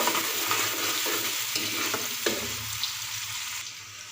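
Steady sizzling of onions frying in a pan, with a few scraping stirs of a spatula, continuous and close, no voices.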